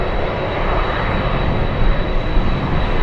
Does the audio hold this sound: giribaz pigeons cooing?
no